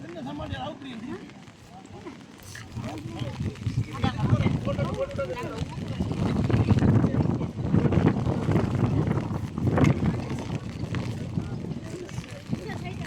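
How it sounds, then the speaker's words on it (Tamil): Wind gusts and steady rain noise fill the background while people talk over it, the roar swelling louder midway. "காற்றும் மழையும் வந்து விடாமல் பெஞ்சுட்டு தான் இருக்குது"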